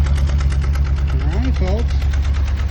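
A 1966 Ford Thunderbird engine idles with a loud, steady low rumble and an even mechanical beat, and a voice talks briefly over it partway through.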